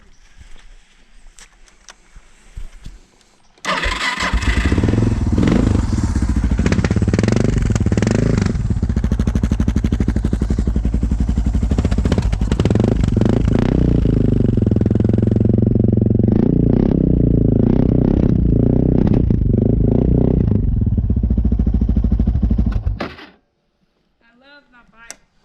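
Suzuki DR 650 motorcycle idling and revving loudly with its exhaust baffle removed, a raw, throaty single-cylinder roar close by that runs steadily for about twenty seconds before cutting out.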